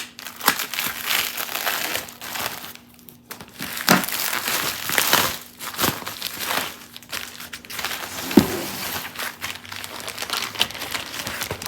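Scrapbook paper is handled and crinkled in bursts: rustling, crackling sheets shift and crumple close by, with short pauses and a few sharper taps, and no talking.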